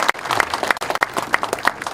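A live audience at a regional talk concert in Gangwon claps steadily throughout, dense applause with brief dips.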